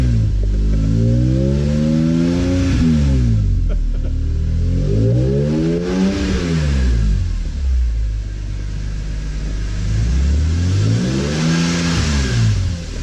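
BMW E46 M3 with its S54 engine revved repeatedly, three loud close sweeps rising and falling over a steady rumbling idle, with no talk.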